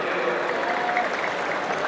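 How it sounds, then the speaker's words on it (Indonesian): A large crowd claps at the opening ceremony of a civil servants' sports event in South Sumatra, producing a brief, continuous, fairly loud roar of applause with no distinct single claps. "tepuk tangan untuk beliau"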